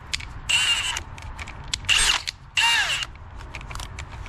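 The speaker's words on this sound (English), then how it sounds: "I'm going to drill straight through here, aim for that pin right here" Three short bursts of high-pitched drilling into metal in the ignition of a 2004 Acura TL, each about half a second, with small clicks and taps in between.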